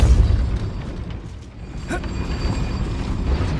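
Hogwarts Legacy spell blasts and explosions go off in quick succession, with a heavy booming impact at the start followed by softer pops and magical bursts.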